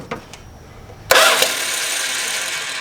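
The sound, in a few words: Slant Six engine briefly cranked by starter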